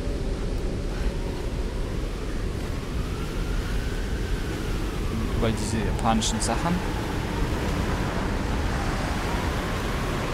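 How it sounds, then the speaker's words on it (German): Wind in the Tomb Raider video game blows as a steady, hollow whoosh through the whole stretch, with someone talking over it. "Windig hört sich das hier an."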